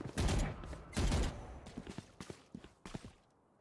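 Gunfire from the shooter Valorant during a college esports match: two loud bursts of rapid shots open the clip, followed by scattered quieter single shots and footsteps-like taps fading toward the end.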